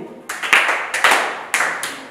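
A group of pupils claps in a few distinct bursts at a school spelling contest, the sharp claps ringing briefly in a reverberant classroom.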